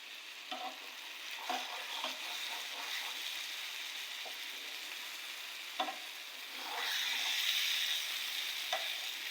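Fish frying gently in a pan, a soft steady sizzle broken by occasional spatula taps, growing louder and hissier toward the end.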